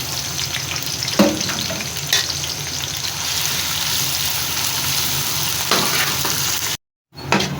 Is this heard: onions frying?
yes